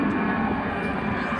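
An airplane passes overhead above fruit trees at a Florida county extension garden, making a steady, fairly loud broadband engine drone that holds level for the whole moment.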